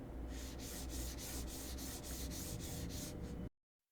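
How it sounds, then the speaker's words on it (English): A computer mouse is pushed back and forth across a Skypad 3.0 glass mousepad, making a loud, gritty scraping. The strokes repeat in an even rhythm of quick swipes, then stop abruptly into silence. "When moving the mouse is noisy"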